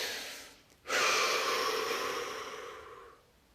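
A single deep breath drawn in or let out, a steady airy rush lasting about two seconds after a short pause, close and alone.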